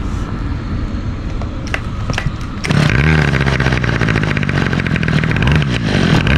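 A gas string trimmer cold-starts: quiet handling noise, then the small engine catches near the three-second mark and runs loudly and steadily up close, with a buzzy idle that wavers slightly.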